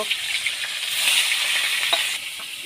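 Fish frying in a wok set on a clay stove, giving a bright, hissing sizzle that swells at about a second in and holds steady, with a few small clinks and no voices.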